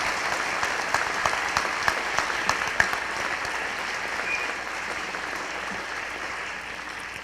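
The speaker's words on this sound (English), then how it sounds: "Let's give her a big round of applause" A school honors night audience claps in a steady, dense round of applause that holds throughout, filling the room with a continuous wash of hand claps.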